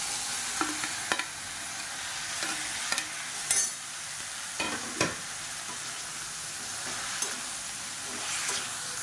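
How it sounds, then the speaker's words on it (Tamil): Onions and chopped tomatoes sizzle as they sauté in a pan, a constant hiss broken by scattered sharp clicks and scrapes of a stirring spoon, close and without speech. "இப்போ வெங்காயம் ஓரளவுக்கு வதங்கிருச்சு மீடியம் சைஸாக நல்லா ஒரு மூணு தக்காளி கட் பண்ணதாக சேர்த்துக்கலாம்"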